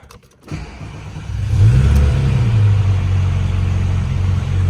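A Porsche 997.1 GT3 flat-six engine pulls away after a brief rumble, its revs climbing into a loud, sustained, rising drone that holds steady nearby, with no talk.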